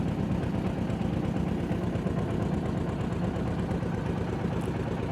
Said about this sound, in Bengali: নৌকা চলছে তার আপন গতিতে বাতাসের অপোজিটে